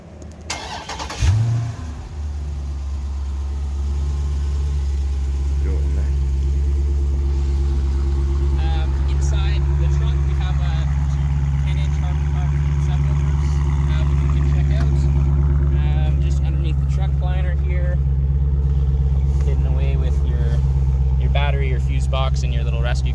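A Dodge Challenger Scat Pack starts by remote start, then settles into a loud, deep, steady idle rumble that runs for about twenty seconds.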